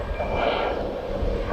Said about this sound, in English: Yeah, Cessna F406 Caravan 2 in from Kirkwall.